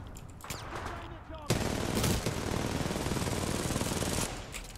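In the video game Titanfall 2, rapid automatic gunfire rattles in dense bursts, loud and continuous after a quieter lead-in with a few scattered shots.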